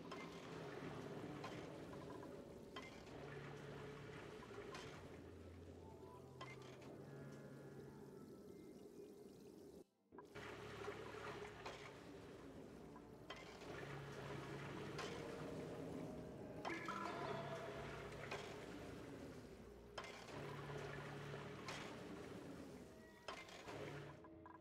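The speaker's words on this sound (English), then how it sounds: "we're filling the oil reservoir back up" Oil pouring into a reservoir in the colony-building game Oxygen Not Included: a steady, continuous gush of flowing liquid that runs unbroken apart from one brief dropout, with no talking over it.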